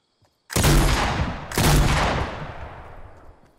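Two loud, close heavy shotgun blasts in Fortnite about a second apart, each trailing off into a long rumbling decay.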